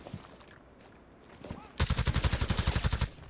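Automatic gunfire in Rainbow Six Siege, a loud, fast, evenly spaced burst of shots after a quieter stretch of low background noise and faint sounds.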